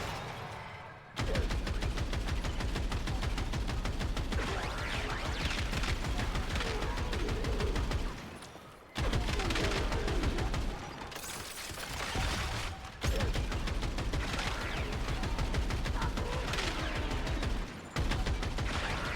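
Rapid, steady automatic gunfire rattles in the Warframe simulacrum, with long unbroken bursts broken by brief pauses for reloads or weapon switches. Loud and close, with no talk over it.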